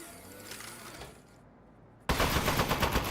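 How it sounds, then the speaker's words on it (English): An Aperture Science turret fires in the video game Desk Job, opening with a faint rattle before a brief lull, then bursting into loud, rapid continuous automatic gunfire that runs to the end. "Presenting the Aperture Science Turret. Go on, take it for a spin."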